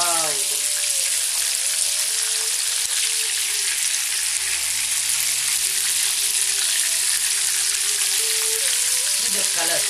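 Prawns sizzle steadily in hot oil for prawn manchurian, a loud, continuous frying hiss running close and unbroken throughout, with faint talk briefly underneath.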